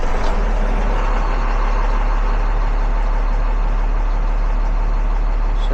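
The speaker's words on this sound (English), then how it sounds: "Let's crank it up and see where she goes." A Cummins ISL9 diesel engine runs at a steady, loud idle with a deep rumbling drone and mechanical clatter, even and unchanging throughout with no voices.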